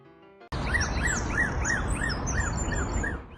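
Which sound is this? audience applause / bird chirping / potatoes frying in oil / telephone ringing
bird chirping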